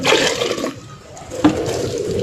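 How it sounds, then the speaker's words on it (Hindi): Water poured from a bucket into a clay matka holding mustard cake (sarson khali) mixed for plant fertilizer, a near, splashing gush at the start, then a brief second splash, with no talking. "फिर इसमें पानी डाल दूँगी"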